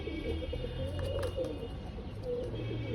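Domestic flying pigeons at a home loft coo in soft, low murmurs that run steadily through a continuous background hum, with no voices present.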